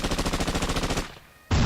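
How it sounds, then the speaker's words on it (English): Rapid gunshots fire in a steady burst of about fifteen evenly spaced cracks, loud and close, then stop abruptly before another loud blast. "Gunshots."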